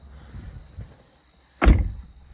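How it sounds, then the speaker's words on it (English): A single solid thunk of a 2024 Toyota Land Cruiser door shutting nearby, following a few soft shuffling movements, with a steady high-pitched whine in the background. "Close the door."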